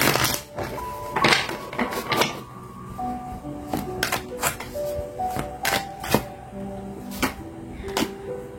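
Tarot cards are shuffled up close in quick bursts of riffling and crisp snaps. Short pauses break the bursts, and no one speaks.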